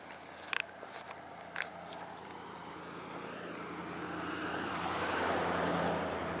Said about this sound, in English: we got a blue truck coming up